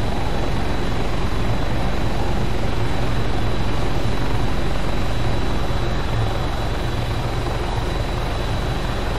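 Helicopter in the Arma 3 video game: a loud, steady rotor and engine roar with dense low thumping, continuous and close throughout with no pauses and no talk.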